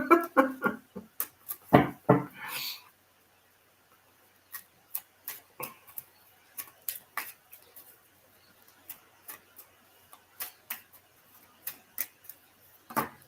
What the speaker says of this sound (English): Can't stop shuffling my cards.